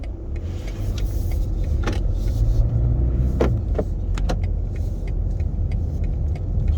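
Inside a BMW G30 520d pulling away, a low steady engine and road rumble fills the cabin, with several sharp clicks and mechanical taps from the controls; no talking.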